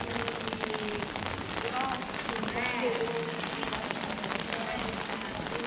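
Rain falls steadily on a street in Salerno, Italy, a constant close patter and splash on pavement, with faint background voices and footsteps mixed beneath the downpour.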